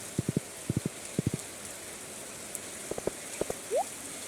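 Steady rain in the farming game Stardew Valley, a soft even hiss running throughout, dotted with short plucked in-game tones in small clusters and one rising chirp near the end.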